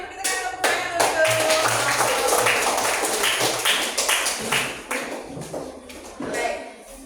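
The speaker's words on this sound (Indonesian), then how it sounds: "silakan dulu kita kasih tepuk tangan" Classroom applause for a student group in an Indonesian teacher-training lesson, dense clapping from many hands filling the room, with a brief speaking voice underneath.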